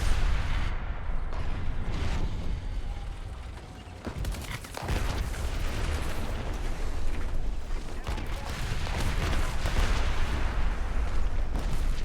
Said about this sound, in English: I'm going to do my pro gamer move called Artillery Strike